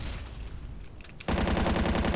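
Video game gunfire: muffled shots sound at first, then a sudden loud, steady stream of rapid automatic fire with an even, driving rhythm kicks in and continues.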